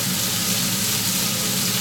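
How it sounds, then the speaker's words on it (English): Steady, dense sizzling from pork searing in a hot pan for a stew, loud and close, with no voices. "just seal the meat. While this is frying"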